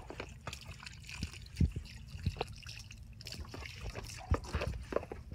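Water trickles and splashes off a horse's legs during a rinse in a barn, a quiet, uneven patter of drips and small splashes with a few louder bursts and soft handling noises.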